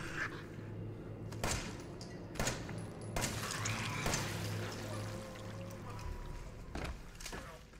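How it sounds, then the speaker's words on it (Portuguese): Gunfire in the survival-horror game Resident Evil 7: several sharp broadband shots spaced a second or so apart, loud against a rumbling game ambience, with excited voices around them. "Três tiros, mano!"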